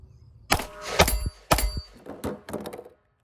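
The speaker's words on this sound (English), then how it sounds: "I'm going to shoot 2 plates, the steel, reload, 2 plates, the steel" A 30 Super Carry pistol fires at steel plates outdoors. Close, heavy shots come in irregular clusters, with clanging impacts and a brief decay after each one.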